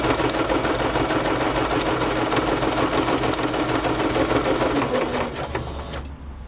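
A sewing machine runs a steady straight stitch through fabric-covered journal pages, a loud, even mechanical whir that holds for about five seconds and then trails off softer near the end.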